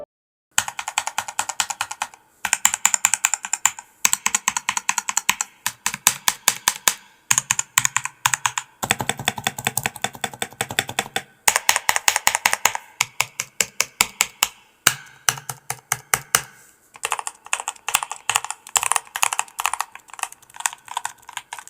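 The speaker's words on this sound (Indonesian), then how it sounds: "sekarang kita masuk ke bagian sound profilnya dengan kondisi keyboard sudah di mod." Rapid typing on a modded Meca Air S mechanical keyboard, close-up and alone, with bursts of crisp keystrokes broken by brief pauses.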